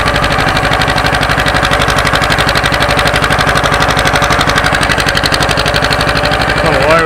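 A John Deere 530 tractor engine runs steadily after an overhaul, a loud, close, even chugging beat with a regular throbbing pulse throughout and no voices.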